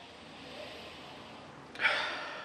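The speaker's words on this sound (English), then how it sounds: "let's have a sniff." A single short, close sniff of a glass of IPA, rising quickly and trailing off as a soft breath after a quiet moment.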